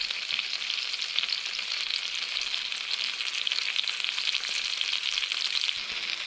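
Squid frying in a pan, a steady close sizzle and crackle of hot oil running unbroken with no talking.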